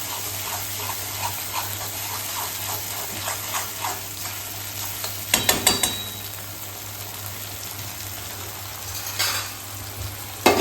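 Tari chutney is stirred in a pot in a kitchen, a soft scraping and sizzling bubble running steadily under a constant low hum, with a brief burst of clattering stirring midway and faint knocks near the end.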